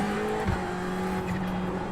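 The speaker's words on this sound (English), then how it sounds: "It's a 488 Ferrari." A Ferrari 488 GT3 race car with a mid-mounted twin-turbo V8 drones steadily in the iRacing video game, a continuous engine tone with a brief dip at mid-clip, heard alone without talk.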